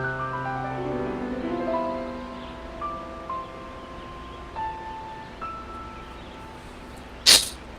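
A single short, sharp sneeze breaks in near the end over a soft game soundtrack of sustained tones and low background ambience.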